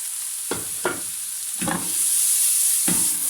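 Onions and zucchini fry in a pan with a steady sizzle, broken by four or five sharp scraping stirs at uneven intervals, the hiss swelling louder midway through; no one speaks.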